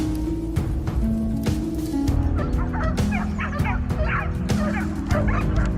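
Hunting dogs barking on a forested mountainside during a wild boar hunt, repeated sharp barks and yips over a steady low rumble, moderately near with some echo.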